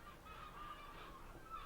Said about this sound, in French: Les mouettes.